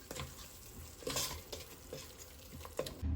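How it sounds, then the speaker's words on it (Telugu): A spoon stirs chili, coriander, cumin powder, turmeric and garam masala together in a biryani pot, giving soft rhythmic scraping and light sizzle strokes, close and quiet. "ఒకసారి ఇవన్నీ నేను బాగా కలిపేసుకుంటున్నాను"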